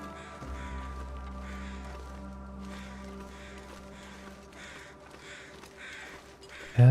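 Two crows caw in the video game The Long Dark, a regular series of rasping calls repeating over a quiet game-world drone, moderately distant.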